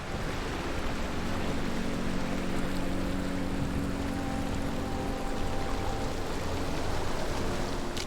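A waterfall in the Lord of the Rings Online game, high up outside the Mines of Moria gate, gives a steady, dense rush of pouring water that stays even throughout with no voices.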